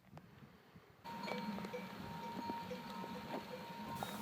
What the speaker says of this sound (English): This goat herd contains over 352 goats